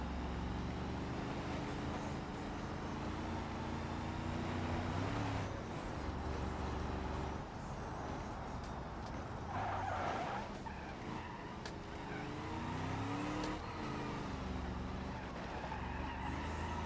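A race car in BeamMP roars around a track, its engine rising and falling through gear changes while tires squeal and skid through corners, steady and prominent with no voices.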